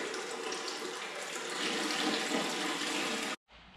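Water from a hose rushing steadily into a fish tank, a loud, continuous splashing flow that cuts off abruptly near the end, leaving quieter background noise.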